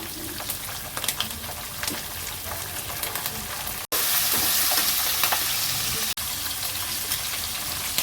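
Green chillies frying in a pan with chana dal and cashews, a close, steady crackling sizzle with stirring scrapes that briefly cuts out twice, then resumes louder and hissier.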